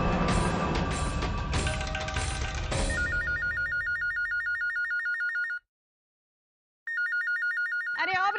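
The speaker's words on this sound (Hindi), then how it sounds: "अरे ओ ब्रिज बिहारी, क्या विलायत से तेरी बुआ का फोन आया है जो तू फोन उठा रहा है?" An indoor telephone rings loudly for several seconds in a Hindi TV serial scene. The sound is a rapid electronic trill that pauses briefly and then starts again, with a short burst of voice at the very end.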